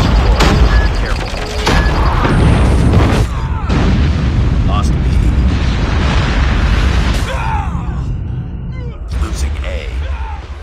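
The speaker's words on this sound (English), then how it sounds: "Enemy napalm has been deployed." Enemy napalm strike explosions in the Call of Duty Mobile game, on the 1944 Shipment map, make loud booms and rumbling blasts under gunfire clatter, with in-game voice announcements over the top.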